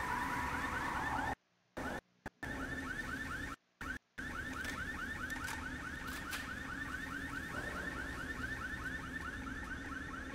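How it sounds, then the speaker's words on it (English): A pulsing electronic alarm in a zombie video game rings continuously at steady volume, its repeating wail broken by a few brief gaps. "I would really like to turn off the alarm."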